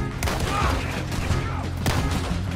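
Gunfire in the Red Dead Redemption 2 video game cracks out in a couple of sharp bursts over a busy game soundscape, fairly close and loud.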